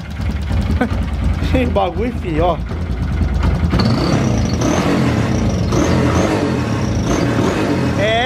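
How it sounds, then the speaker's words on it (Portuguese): A Honda CG 150 motorcycle bored to 220cc, with Falcon 400 TBI injection and a Honda exhaust, idles close by with a steady low throb. Someone talks over the engine the whole time. "olha a lenta da moto da roça"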